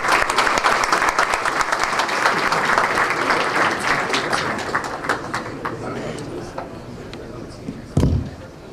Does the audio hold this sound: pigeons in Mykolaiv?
no